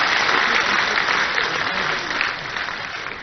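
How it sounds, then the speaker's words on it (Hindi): Loud, sustained applause from an audience welcoming Chief Minister Dr. Mohan Yadav at a national researchers' gathering in Bhopal, dense clapping that holds steady and eases slightly toward the end. "जरा जोरदार तालियों के साथ में अभिनंदन और स्वागत"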